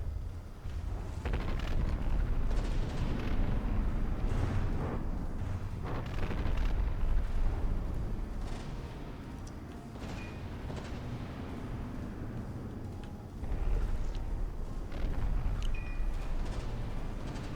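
Torpedo hits explode against a battleship in a naval combat video game, a continuous heavy rumbling roar of blasts and booming impacts that swells and surges repeatedly, with no talking over it.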